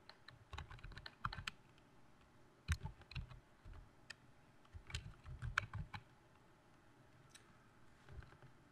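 Fingers typing on a computer keyboard in quick irregular bursts of light clicks with short pauses between, close and quiet against a faint room hum.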